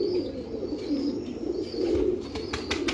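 A prized golden pigeon coos close by in a low, soft, repeated rolling call, with a few faint higher chirps near the end and no one talking.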